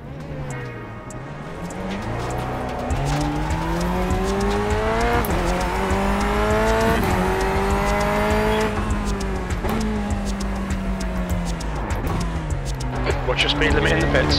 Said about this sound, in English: Watch the track limits, please, Brandon.